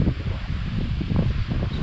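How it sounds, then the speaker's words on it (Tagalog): Strong wind gusting across open rice fields, a loud rumbling buffet of wind noise that surges and dips continuously with no talk. "Grabe yung hangin eh."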